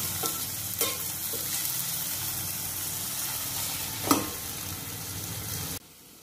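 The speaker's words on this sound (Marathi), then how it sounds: "आता यात मॅरिनेट केलेले फिश घालायचे आहेत आणि ते देखील अशा पद्धतीने जरा परतून घ्यायचे आहे।" Marinated pomfret fish sautéing in a pan with onion and ginger, a steady close sizzle with stirring scrapes and a couple of sharp utensil clacks, cutting off abruptly near the end.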